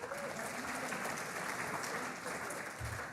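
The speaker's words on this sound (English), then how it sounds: "Give her some applause anyway" An audience at a university awards ceremony applauds with a dense, even wash of clapping from a roomful of people, continuous throughout, with a soft low thump near the end.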